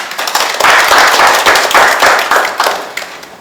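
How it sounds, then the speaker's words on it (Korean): An audience at a forum in the National Assembly claps in strong, rhythmic bursts, loud and close, before fading slightly. "큰 박수 부탁드립니다"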